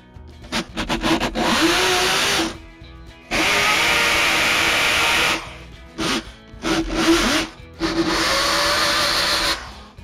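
A loud hammer drill roars in several bursts, some short and some sustained for a couple of seconds, grinding hard into a concrete wall at close range.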